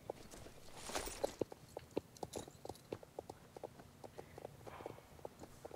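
Hooves of a wild horse in the game Star Stable Online clip-clopping in a steady walking rhythm, crisp regular beats that keep going alone without talk, fairly quiet overall.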